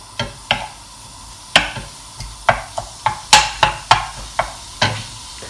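Meat browning in a frying pan for lasagne, heard as a soft sizzle beneath a series of sharp, irregular knocks and scrapes from a utensil moving the meat around, about a dozen close taps.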